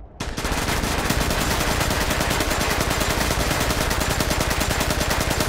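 Sustained automatic gunfire in The Division erupts after a brief silence and hammers on in a rapid, dense, unbroken stream, loud and close, with no talk.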